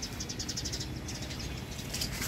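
Many sparrows chirping in a rooftop garden, a dense scatter of quick high tweets running steadily from start to finish at moderate distance.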